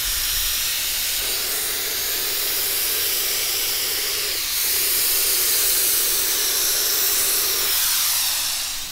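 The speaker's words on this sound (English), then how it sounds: "Let's go ahead and spray it with the activator and get started." A steady, loud hiss of hydro-dipping activator sprayed from an aerosol can runs almost without a break for about nine seconds, with no voices over it.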